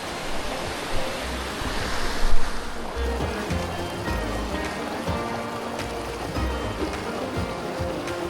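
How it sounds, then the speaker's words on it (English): The Delatite River running fast in winter, rushing steadily in a broad continuous roar with slight swells, close by and fairly loud, no talking. "the river's running quite hard."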